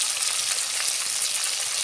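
Pieces of chicken fry hard in a pan as onion and garlic paste goes in, giving a loud, continuous, even hiss of hot oil with no pauses.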